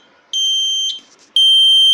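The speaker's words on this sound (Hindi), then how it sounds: "बजर है बिल्कुल परफेक्टली काम कर रहा है" A Hero motorcycle indicator buzzer, fitted and glued in place, gives two long, loud, high electronic beeps with a short gap between them.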